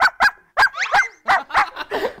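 A man imitates a happy dog with his voice, giving a run of about eight short, bright yips and barks in quick, bouncy bursts, close and loud with brief gaps between them.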